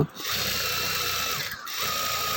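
A sewing machine stitching scraps of fabric runs with a steady, fast mechanical whir, close up, pausing briefly once before starting again.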